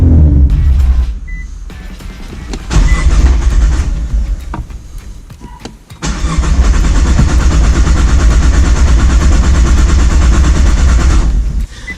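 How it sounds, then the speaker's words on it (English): A Nissan GT-R with its fuel pump being replaced cranks, stumbles briefly, then fires and settles into a loud, steady idle that runs close and continuous until near the end. "now we're going to go ahead and start it and release the fuel pressure"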